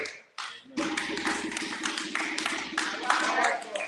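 A crowd breaks into sustained applause after a brief pause, the clapping dense and steady with a voice or two mixed underneath.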